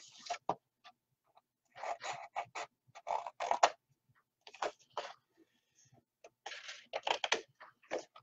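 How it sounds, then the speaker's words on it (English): Paper being cut away along a score line for a Christmas memories folio craft project, a series of short scratchy cutting bursts in irregular clusters separated by brief pauses, close and fairly quiet. "I'm actually going to cut away the score line"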